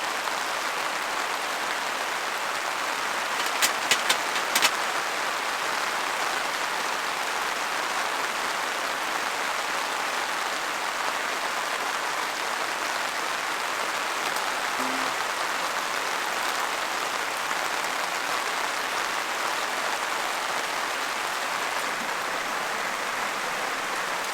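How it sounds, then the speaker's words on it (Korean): A dense, steady hiss of heavy rain falling without pause on a campsite, with a couple of faint clicks early on. "시락하되 비가 진짜 많이 와요."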